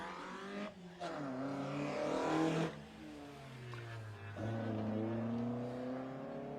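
A rally car at the Kames Junior Spring Rally drives along the stage with its engine revving hard through the gears, the note rising and dropping as it shifts, loud and fairly close with no one talking.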